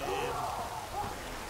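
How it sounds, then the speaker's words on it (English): Steady rain falling in The Witcher 3 video game, a continuous broadband patter with a faint voice beneath it. "Looks like rain."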